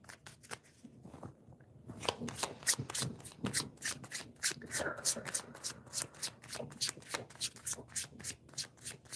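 Tarot cards are shuffled in quick, repeated riffling bursts, a steady rhythmic flutter close by, with soft murmuring beneath the early part.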